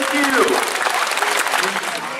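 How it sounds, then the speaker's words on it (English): An audience at an outdoor bird show in the Pools Amphitheater at Jurong Bird Park, Singapore, claps in a brief, dense patter of applause while a presenter keeps talking over it. "can we give amigo here a big round of applause"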